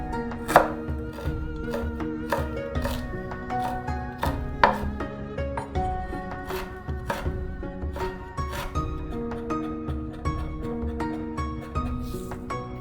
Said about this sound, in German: Ingwer fein hacken.